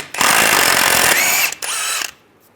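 A power tool spins off a front axle nut on a 1998-2010 Volkswagen Beetle using a 30mm 12-point socket, a loud continuous whirring burst lasting about two seconds with a brief dip before stopping.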